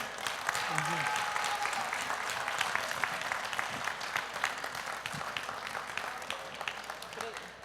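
Applause from a gastronomic congress audience in Popayán, a steady wash of many hands clapping that tapers slightly, heard a little distant with faint voices and murmurs underneath.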